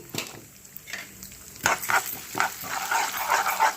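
Mustard seeds, cumin and urad and chana dal fry in hot tempering oil for a green chilli chutney, a crackling sizzle with scattered pops and stirring scrapes that grows louder toward the end.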